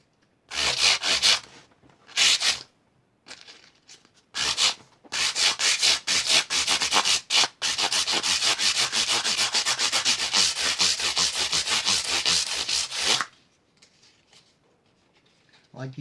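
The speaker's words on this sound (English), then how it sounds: "I like to use up all the sandpaper I can." Sandpaper rubbed over the rough fret surface of a guitar neck, loud close scratchy strokes in short bursts, then a long steady back-and-forth run before stopping.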